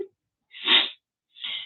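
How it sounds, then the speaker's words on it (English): A close, breathy sneeze bursts out of silence, followed a moment later by a softer second burst. "I felt a sneeze."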